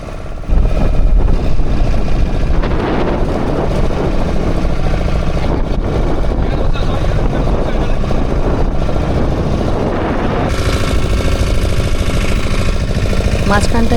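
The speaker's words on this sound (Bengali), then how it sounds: "আমাদের ইঞ্জিন স্টার্ট করে দিয়েছে।" A boat's engine runs on Chilika lake, a loud, steady, close rumbling drone that continues without pause, with voices occasionally mixed in.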